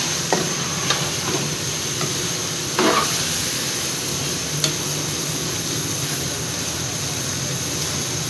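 Carrot halwa cooked with khoya being stirred in a pan, giving a steady soft sizzle with a few scraping stirs of the spoon and no voices.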